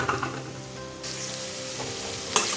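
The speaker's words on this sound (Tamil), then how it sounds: "இதை நல்லா வதக்கிக்கலாம்." Chopped vegetables sautéing in hot oil for Maggi noodles, a steady close sizzle with brief stirring scrapes and no voices.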